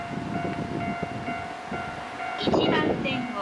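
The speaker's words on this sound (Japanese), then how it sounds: "1番線を列車が通過いたします。" A train rumbles through Kami-Nopporo station on platform 1 without stopping, a steady mechanical drone and a rising whoosh of air near the end, while a faint Japanese announcement voice carries underneath.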